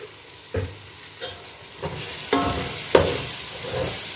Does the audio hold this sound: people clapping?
no